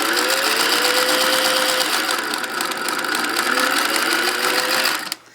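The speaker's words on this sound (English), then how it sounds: "once you're done stitching that seam, you just stitch right off the edge of the fabric." A vintage Singer 600 Touch N Sew sewing machine stitches off the edge of the fabric in a loud, close, continuous rapid whir that stops abruptly near the end.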